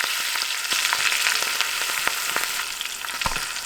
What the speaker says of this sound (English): Tadka includes ghee, garlic, whole red chilies, mustard seeds, curry leaves and red chili powder.